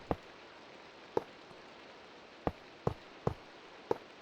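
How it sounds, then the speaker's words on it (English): A faint steady rain hiss plays in a Minecraft modpack game (Enigmatica 2), punctuated by six short, irregular ticking clicks, with no talking. "And it's raining."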